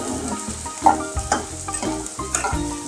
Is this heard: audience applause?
no